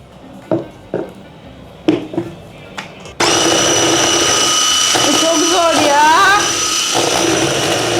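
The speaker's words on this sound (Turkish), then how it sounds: "Mikseri al, mikseri." A few clicks and clatters, then a handheld electric mixer whirs on loudly and runs steadily, a voice speaking briefly over its drone.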